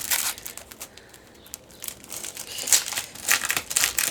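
Crinkly plastic packaging around a roll of adhesive imitation-fabric being handled and opened, a close run of irregular crackles and crumples that grows busier and louder in the second half.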